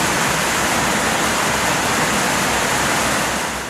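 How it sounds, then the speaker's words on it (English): Brown flood water pours from mountain streams and rivers into a city in Oman, a loud dense continuous roar and rush of water with no talking. "Brown, murky water from small streams and rivers poured into the city"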